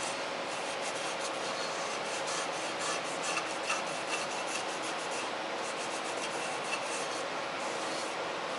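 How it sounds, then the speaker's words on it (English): A cloth wipes down the gearcase surfaces of a classic OMC outboard motor, making a soft, steady rubbing swish close by and fairly quiet, with no talking. "Wipe all these surfaces down."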